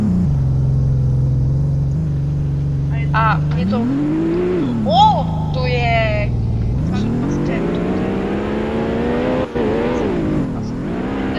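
A car drifts on ice in the Realistic Car Driving video game, its engine droning and rising and falling in pitch as it slides, heard steadily under people talking.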